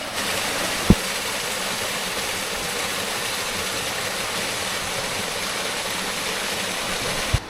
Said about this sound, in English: You're walking along this creek. It's flowing all the way down the mountain.